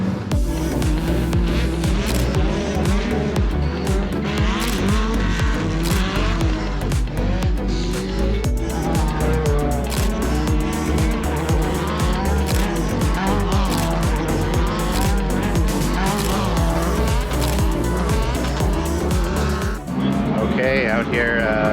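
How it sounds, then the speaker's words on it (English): Pro stock race cars roar around a track in a loud, continuous blend of engines and tire noise, with people talking underneath throughout. "Out here watching pro stock right now because they're just rolling through races"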